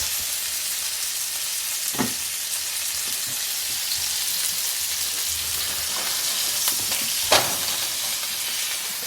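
Chicken fried steak frying in a pan, a steady broadband sizzle that holds throughout, broken by two brief louder clanks of a utensil.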